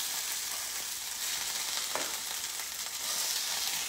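Saltimbocca sizzles and crackles steadily in a hot pan, a constant hissing fry at moderate volume with no talking.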